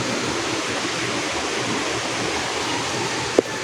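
A creek flows beside a small farm plot with banana plants, making a continuous, even rushing hiss of water that stays close and steady, with one short click near the end and no talk.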